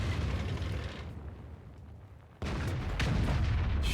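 Tank gun fired in the World of Tanks video game, a loud rumbling roar that fades to a low tail, then a second sharp, heavy boom lands and rings on loudly.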